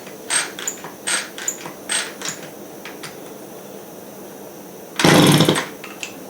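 A 1979 Honda Express moped being kicked over during a compression test, giving several short mechanical clacking bursts in a loose rhythm, followed by one louder rushing burst near the end, with no talking.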